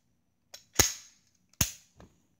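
A pistol during malfunction drills gives sharp metallic clicks and snaps, two loud, close strikes with brief ringing tails, followed by softer mechanical clicks of the slide, with no talking.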